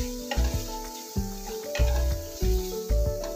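Spice paste with turmeric and meat masala for an elephant-foot yam curry sizzles and is stirred in a pan, loud and close, with repeated scraping strokes over a steady frying hiss.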